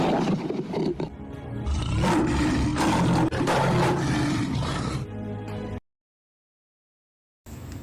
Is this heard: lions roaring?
yes